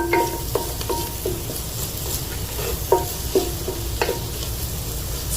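Garlic and ginger fry with spices in a pan, a soft steady sizzle broken by repeated sharp clinks and scrapes of a spoon stirring against the metal, close and with no talking.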